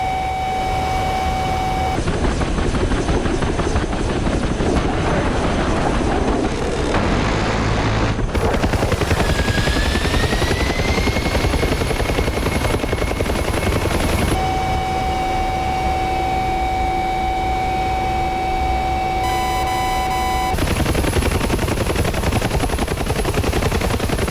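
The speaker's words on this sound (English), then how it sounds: "Chinook is down on the ground there, he's just going in for a landing" A Chinook helicopter in a flight combat video game comes in to land, its steady loud rotor thrum and engine whine continuous throughout, with occasional cockpit warning tones over the top.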